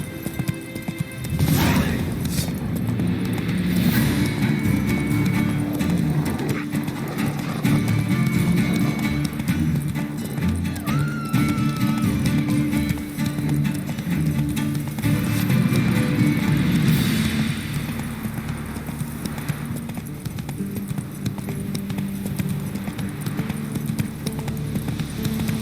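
Roach, a horse in The Witcher 3, gallops with steady rhythmic hoof clip-clops over a low background hum, with a brief whinny near the start, continuing close and prominent for the full length.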